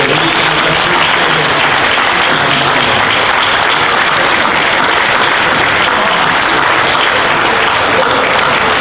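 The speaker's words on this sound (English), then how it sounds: "Would you stand so we can applaud you" A church congregation applauds fathers at a Father's Day Sunday service, with dense, loud clapping held steady throughout and no speech.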